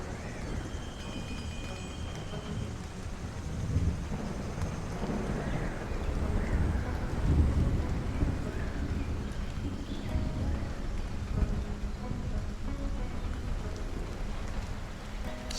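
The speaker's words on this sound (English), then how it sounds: "That's some rain, that is." Rain from the video game Stranded: Alien Dawn, a steady dense patter that holds throughout at moderate loudness, with no distinct thunder heard.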